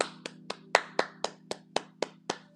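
One person clapping their hands alone, about ten sharp, evenly spaced claps at a brisk steady rhythm, close and clear over a faint low hum.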